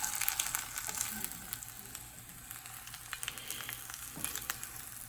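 Egg frying in a brand new pan, a steady soft sizzle with fine crackling pops scattered throughout, quiet and close, no voices.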